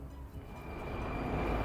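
A Prague metro train arriving at a station, a steady low rumble and rail noise that swells slightly as it approaches, with no voices.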